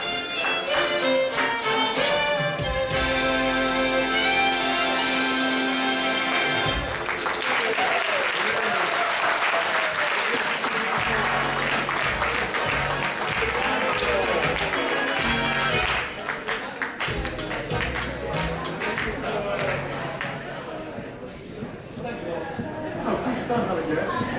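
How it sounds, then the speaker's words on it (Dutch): A live audience claps and cheers at a Frisian music show, loud sustained applause mixed with music and a voice talking over it, fading slightly near the end. "En nog een keer een groot applaus."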